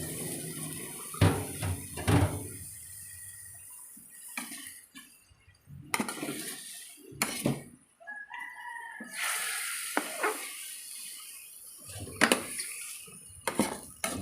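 A pork chop dropped into a frying pan, with clattering pans and cutlery around it, a rooster crowing in the background, and a few scattered bursts of sizzle and clanks.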